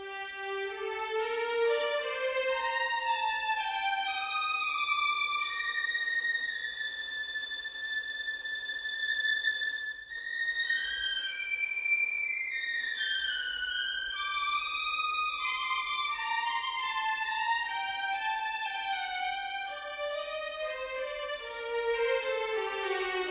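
Strings play smooth, sustained legato lines together, gliding between notes in high registers with a soft, continuous, slightly distant ensemble tone.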